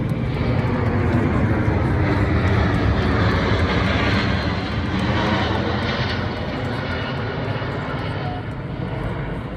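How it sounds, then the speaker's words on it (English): A C-17 Globemaster transport jet roars overhead in a flypast at the Trooping the Colour birthday parade, a loud, sustained engine rumble that fades slightly as it passes, with speech faintly beneath. "This is followed by one C-17 Globemaster."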